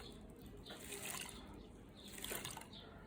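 Water sloshes and trickles in a gold pan as it is dipped and tipped, soft close splashing and dripping in two gentle swells, with no talking.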